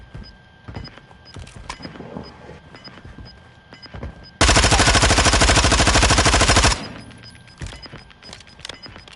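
Rapid automatic gunfire in Modern Warfare 2 on PS4, a loud, sustained burst of about two seconds following quieter in-game clicks and shuffling.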